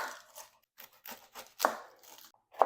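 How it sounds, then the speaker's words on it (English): Knife blade chopping through medium onions on a cutting board, a handful of separate crisp cuts spaced irregularly, close and quiet, with no talking. "First, I'm going to chop up 4 medium-sized onions."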